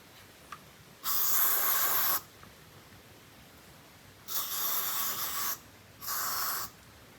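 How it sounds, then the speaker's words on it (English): Aerosol can sprayed onto a newborn bull calf on a ranch, three separate hissing bursts, the first about a second long and the later two shorter, fairly close against a quiet outdoor background. "spray that calf really good"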